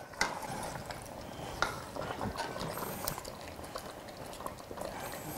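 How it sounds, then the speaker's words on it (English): Hawaii-style sweet sour spare ribs, browned pork with daikon and sauce, simmer in a pot with a steady low bubbling and occasional small clicks and pops, no talking. "we brought it up to a simmer"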